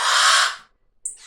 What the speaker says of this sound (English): Our baby blue jay.